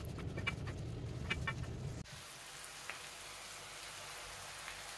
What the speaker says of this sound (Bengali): প্রথমে আমি তেল দিয়ে দেব, তারপর আমি পেঁয়াজ দিয়ে দিয়েছি। এগুলোকে ভালো করে ব্রাউন করে ভেজে নিতে হবে।